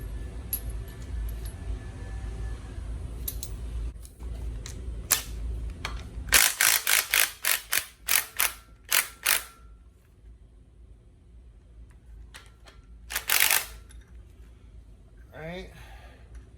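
Alternator being wrenched loose from an engine cover during a teardown: a quick run of rhythmic metallic ratchet clicks, then a brief later burst, close by, amid a low background hum and a person talking.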